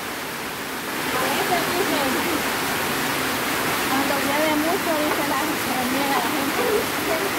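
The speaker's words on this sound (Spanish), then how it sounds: "No, pero miren qué barbaridad de agua." Heavy rain pours down in a loud, constant roar of water. People talk over the downpour throughout.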